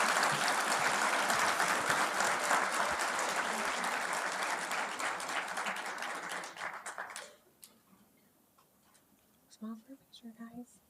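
An audience claps in sustained, dense applause at a high school honors night, fading out after about seven seconds into a quiet room with a few scattered sounds and brief talk near the end.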